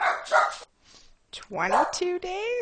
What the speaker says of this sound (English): I'm sorry for my dogs barking if you can hear them.